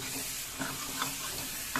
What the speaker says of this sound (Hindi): तीन मीडियम साइज टमाटर काटा हूँ ये गया टमाटर इसको थोड़ा सा फ्राई करता हूँ